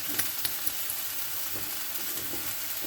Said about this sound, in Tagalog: niluto ko lang po yung gulay